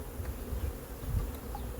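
Honeybees hum in a low, steady drone throughout a hive inspection as frames are pried apart with a hive tool, a continuous close buzzing with no voices.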